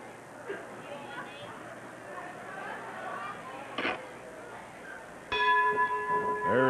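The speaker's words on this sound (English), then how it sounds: "There is the bell. The action's underway." A ring bell clangs near the end to start a professional wrestling match between Buzz Sawyer and Tiny Anderson, a bright sustained ring heard after an announcer's commentary and arena noise.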